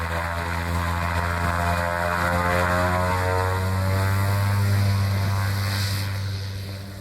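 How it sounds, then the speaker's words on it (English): A small propeller sightseeing plane takes off on a glacier near Denali, its engine a steady, loud drone with strong low harmonics that swell and then ease slightly as it pulls away. "This is footage of the other plane taking off."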